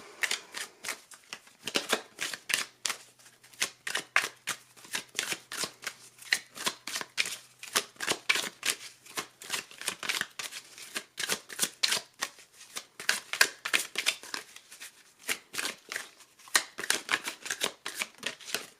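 Oracle cards being shuffled during a tarot reading: a steady run of rapid, crisp riffling and slapping card strokes, close and fairly loud, continuing for the whole stretch with no talking.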